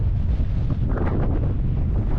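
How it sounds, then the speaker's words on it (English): Strong gusts of wind at a mountain campsite near Wastwater buffet the microphone, producing a loud, constant low rumble and roar with no voices. "we're in for a windy night it seems"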